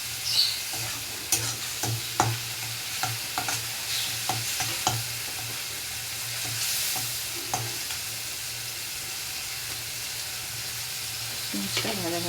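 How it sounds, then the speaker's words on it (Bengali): Chopped onions frying in a pan for a Bengali prawn malai curry, with a steady sizzle and repeated sharp scraping clicks of stirring throughout, close and moderately loud with no talking. "পেঁয়াজটা ভাজা ভাজা করে নেব"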